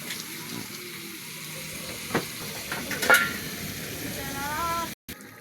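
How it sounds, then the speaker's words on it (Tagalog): A small portion of food bubbles in a cooking pot as the broth boils down, a steady sizzling, hissing simmer with occasional faint clinks of a utensil, fairly close and continuous before cutting off abruptly near the end. "Kumukulo na siya guys."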